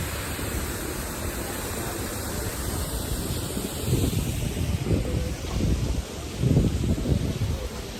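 A water fountain splashes in steady, broadband rushing noise outdoors, with a few slightly louder surges toward the end and no voices.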